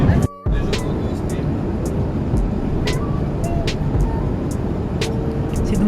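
Airplane cabin during flight, a steady, loud, broadband engine and air roar filling the whole stretch. A brief dropout comes near the start and faint clicks sit on top, with no clear speech.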